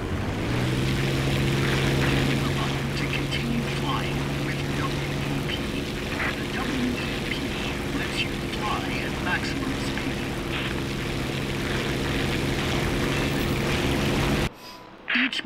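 A propeller fighter plane's engine drones steadily at throttle in War Thunder, a continuous loud hum with a held tone that shifts once, then cuts off near the end.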